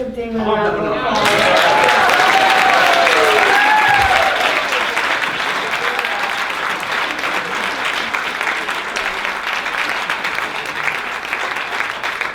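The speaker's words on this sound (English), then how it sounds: "can we all just give Damon a round of applause?" An audience at a Fund-A-Need benefit night bursts into loud, sustained applause that holds for several seconds, with a voice over the opening and cheering mixed in.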